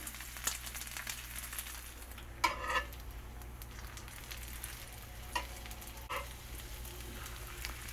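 Thick-sliced homemade pork belly bacon frying in a pan, a soft, steady sizzle with a few sharper pops and crackles scattered through it, fairly quiet and with no talking.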